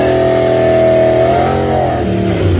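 A 1979 Chevrolet Camaro drag car at a drag strip holds a loud, steady engine roar, the pitch sliding down in a long sweep as it pulls away.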